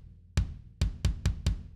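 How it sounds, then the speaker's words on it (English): A tight, punchy rock kick drum sample from Superior Drummer 3, unprocessed, hits five times in an uneven pattern, each a deep booming thump with a sharp attack and short decay, alone and close. "It's the tight punch kick from the Rock Expansion."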